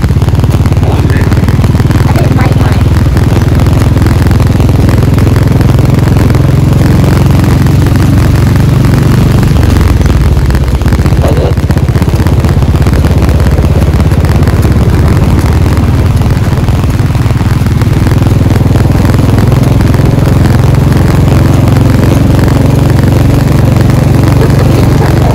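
A motorcycle engine runs continuously and loudly up close on a bike trip from Banbasa toward Nepal, a steady low rumble holding for about twenty-five seconds with no clear speech over it.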